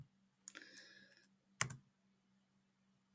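A few quick keystrokes on a computer keyboard, a short cluster of clicks followed by one sharper tap, close and isolated against a quiet background hum.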